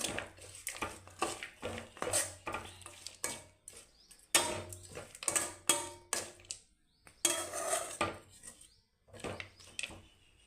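A spoon stirs coriander leaves through lemon rice in a metal pan, giving a steady run of scraping and clinking strokes with brief pauses, close and fairly quiet, with no talk.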